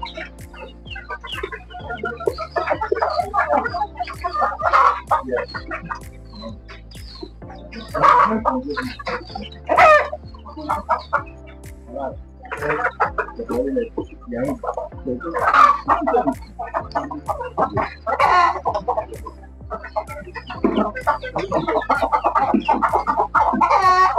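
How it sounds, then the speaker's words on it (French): Hybrid hens cluck steadily and busily for the whole stretch, several birds overlapping in a continuous chatter of short calls, close by over a low background hum. "Ce sont les poules"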